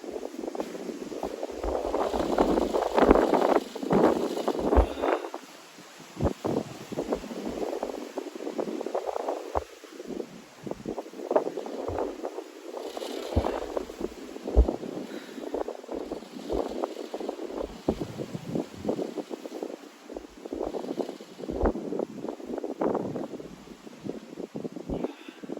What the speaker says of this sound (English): the winds are picking up